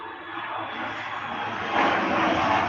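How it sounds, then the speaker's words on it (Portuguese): Airplanes flying overhead, a steady broad roar of aircraft engine noise that swells slightly toward the end, continuous and fairly loud, with no one speaking. "Então, tem muito avião aqui."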